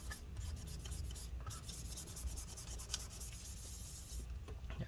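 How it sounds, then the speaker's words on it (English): A paper towel dampened with rubbing alcohol is rubbed back and forth over residue on a late-2013 13-inch Retina MacBook Pro A1502, giving a steady, close scraping and rubbing texture throughout with no talking. "We can go ahead and clean off the excess residue with the rubbing alcohol paper."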